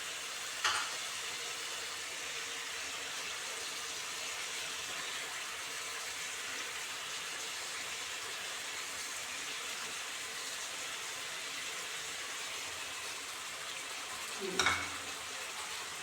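A pan of sardine curry simmers and fries with a steady low sizzle, broken near the start and again near the end by brief scraping stirs, with no one talking.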